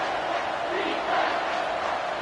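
A stadium crowd in a football video game roars steadily throughout, a dense continuous wall of cheering with no break.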